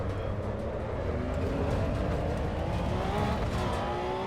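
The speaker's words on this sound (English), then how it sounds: "The downshift sounds nice, but I feel like we're missing that raw transmission sound of the Porsche" A Porsche Cup race car in the Assetto Corsa Evo racing game, its engine droning at moderate level with rising and falling pitch through shifts, heard alone without talk.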